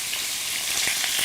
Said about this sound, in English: So you just fry the beef little bit